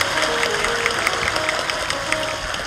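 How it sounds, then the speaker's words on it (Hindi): Audience applause at a Hindi spiritual discourse, a steady dense patter of many hands clapping throughout, fairly loud and even, with no speech over it. "जोरदार ताली बजनी चाहिए।"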